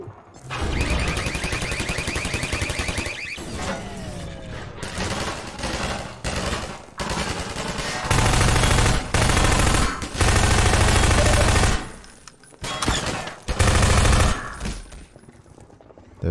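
Turret machine gun fire in Half-Life 2 rattles in loud, sustained bursts broken by short pauses, with heavy low booms mixed in toward the middle and end.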